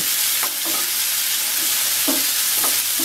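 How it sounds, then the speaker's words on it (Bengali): Onions fry in a pan for a restaurant-style fish masala. A constant loud sizzle hisses throughout, broken by several scraping stirs of a spatula, with no speech. "পেঁয়াজটাকে ভেজে নেব এর রংটা সামান্য চেঞ্জ হওয়া পর্যন্ত"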